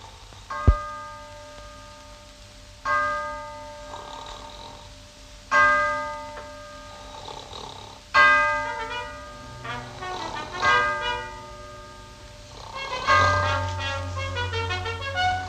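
A ship's bell strikes four bells in a cartoon comedy scene, four resonant clangs in pairs spaced a few seconds apart, each ringing out and decaying, with music and bustling noise rising near the end.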